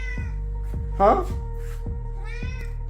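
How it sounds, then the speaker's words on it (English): A cat meows in a home workshop, giving one clear rising meow over a loud, rhythmic, pulsing mechanical hum, with a second softer call near the end and a brief spoken word. "Kitty, you want some food?"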